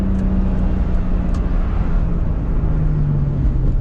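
A Toyota Supra engine heard from inside the car on a hard drive, a steady droning hum with a shifting low tone and brief higher squeaks on top, no clear break for each gear change.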